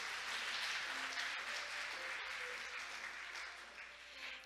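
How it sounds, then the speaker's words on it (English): Audience applause at a formal maritime conference session in Korea, honouring the Secretary General after a speech: dense, steady clapping from a large crowd filling the whole clip, easing slightly toward the end. "Let's give the Secretary General Ki-taek Lim another big round of applause for that speech."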